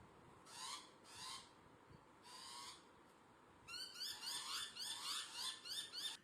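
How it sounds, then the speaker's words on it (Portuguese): An African masked owl hisses with its feathers puffed out, a series of harsh, breathy hisses, first several separate bursts, then a rapid run of rasping pulses close by. "a coruja mascarada bufa suas penas para fora e assobia, para parecer maior e mais feroz"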